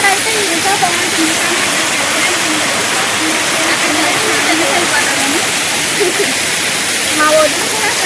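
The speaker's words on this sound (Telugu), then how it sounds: "చూడండి, దారపిల్లి వాటర్ ఫాల్స్ ఇంత బ్యూటిఫుల్ గా ఉంటుంది." Dharapalli waterfalls pour with a steady, loud broadband roar of rushing water that fills the scene evenly throughout, while faint voices murmur underneath.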